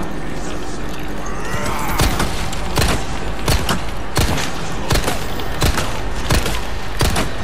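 Rapid bursts of Resident Evil 4 gunfire crack out repeatedly over a steady background, with sharp impacts spaced irregularly throughout and a voice talking underneath in Hindi.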